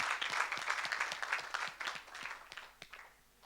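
A congregation at a prophetic deliverance service breaks into applause to acclaim the Lord, a close burst of many hands clapping that thins out and fades over a few seconds.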